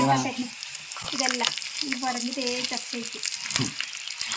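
Spices and chillies sizzle in hot oil for a tempering, a close, busy crackle with stirring scrapes. A voice talks intermittently over the frying.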